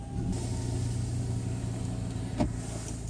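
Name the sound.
car being driven and parked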